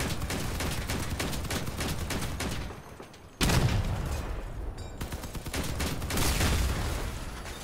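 Rapid bursts of machine gun and autocannon fire from a combat vehicle in Crossout, loud and sustained, with a brief drop before the firing resumes at full intensity.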